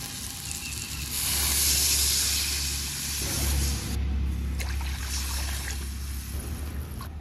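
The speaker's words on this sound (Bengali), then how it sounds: "এবার টকের জন্য জল দিয়ে দেব পরিমাণ মতো" Water poured into a pan of fried prawns for a tangy tamarind dish sets off a loud, steady sizzle and hiss that swells and lingers throughout, with a low hum underneath.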